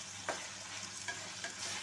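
Potatoes tipped into a frying pan of softened tomatoes for capsicum potato gravy and stirred, giving a few soft scraping stirs over a low steady sizzle, faint and without voices.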